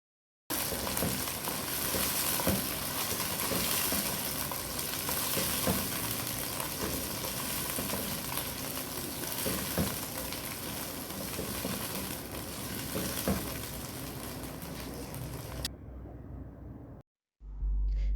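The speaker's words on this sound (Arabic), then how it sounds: "في نفس الزيت الذي قلينا فيه، والبصل نقلي فيه البامية." Fresh green okra fries with onions in oil, giving a loud, dense, continuous sizzle with occasional stirring scrapes for about fifteen seconds before it cuts off abruptly.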